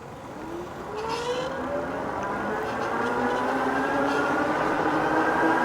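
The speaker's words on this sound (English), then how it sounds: "Now I'm just going to use a twist throttle and let's see how fast it can go." A ONEBOT T6F electric bike pulls away on its twist throttle, its motor whine climbing steadily in pitch over a constant rush of wind noise.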